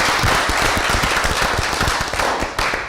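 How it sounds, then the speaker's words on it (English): At a city council meeting, a room applauds with dense, crackling clapping that is loud and close, continuing steadily throughout the short stretch. "I believe that's a round of applause"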